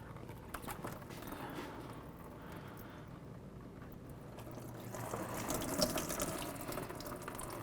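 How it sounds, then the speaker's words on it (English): Engine coolant from a 2002-08 Dodge RAM's upper radiator hose pours steadily into a bucket, a constant faint splashing trickle that swells slightly near the end. "Remove the clamp, just be prepared because coolant will come down."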